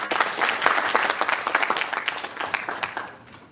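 A live audience applauds a speaker with a dense burst of many hands clapping, loud and sustained before thinning and fading toward the end, with no talking over it.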